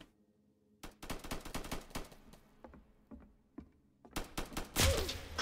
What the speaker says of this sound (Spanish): Pegan tiros.